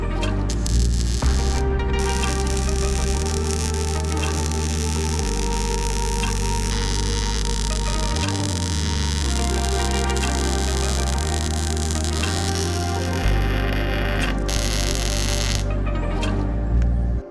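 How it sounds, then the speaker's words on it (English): Steady loud electrical buzz with constant hum and crackle for the whole stretch while joints are welded on a homemade exoskeleton roll cage for a Jeep CJ7, with brief shifts in tone and no talk. "so I'm going to go ahead and start welding it in."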